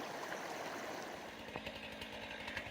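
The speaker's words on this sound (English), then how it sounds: "So that chainsaw is Tanner, and he is clearing that log I just hopped over." Chainsaw cutting through a fallen log blocking a hiking trail on the Superior Hiking Trail, a steady buzzing drone heard from a moderate distance with a slight revving surge partway through.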